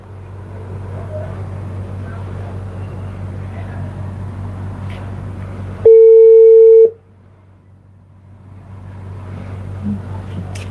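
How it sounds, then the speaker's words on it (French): A telephone call is being placed: a single steady electronic tone sounds for about a second, clear and loud, with a low background hum and murmur before it and quiet afterward. "je suis en train de l'appeler"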